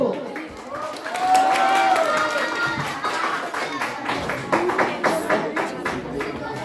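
Audience applause at a school celebration day, scattered clapping and taps from a crowd running for several seconds under lively chatter and voices, uneven and moderately loud.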